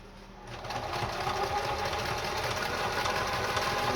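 A Kenmore 158.10500 sewing machine stitches fabric, starting after a brief pause and then running in a steady, close, rapid mechanical whir with a rhythmic knocking underneath.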